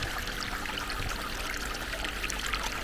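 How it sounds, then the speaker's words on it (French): Small forest stream trickling through snowy woods, a steady soft rush and babble of running water, continuous and even, heard alone without voices. "J'adore écouter le bruit des petits ruisseaux comme ça couler en pleine forêt"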